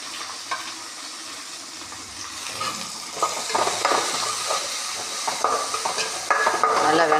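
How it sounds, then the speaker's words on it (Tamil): Onions sizzling and being stirred in a pan for a sardine fish curry (mathi meen kuzhambu) with curry leaves, a steady close frying hiss with scraping utensil strokes that grow busier toward the end. "நல்லா வெங்காயம் இதுக்கு நல்லா வதங்கணும். வெங்காயம் வதங்கட்டும்."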